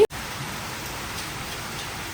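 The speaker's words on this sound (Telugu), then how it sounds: "ఇక్కడ ఫుల్ వర్షం పడుతుంది" Heavy rain pours steadily, a constant dense hiss with no pauses and no one speaking.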